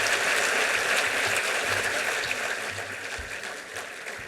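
An audience in a hall at a Gayatri Pariwar event at Bharat Mandapam claps in dense, sustained applause that holds steady and then slowly fades.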